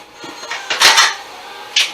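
An apple slicer pressed down through a whole apple, coring and cutting it into slices: a few short crunching, clattering bursts close up, with a final sharp click near the end and no talking.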